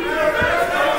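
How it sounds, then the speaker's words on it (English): A wrestling crowd at an Unlimited Wrestling show roars in a loud, sustained wall of cheering and chanting for the full moment, dense and close. "the crowd already firmly behind the son of nothing Maggot"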